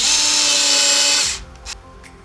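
A power screwdriver whirs loudly and steadily as it drives motherboard screws into an Xbox One X console during a disc drive repair, then cuts off, followed by a couple of faint clicks.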